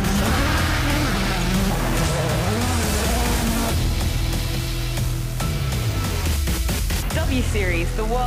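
W Series racing cars on track, an engine droning continuously and shifting in pitch as cars pass, with a voice speaking over it across the whole stretch.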